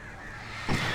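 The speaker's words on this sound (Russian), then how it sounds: "Как же я ненавижу ворон." Crows cawing in a dark horror action game, a single loud harsh caw rising near the end over a steady ambient hum.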